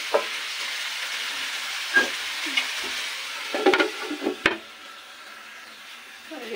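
Taki fish frying as bhuna in a pan, a steady sizzle with scattered scraping stirs and clinks of a spatula, fairly close and with no talk.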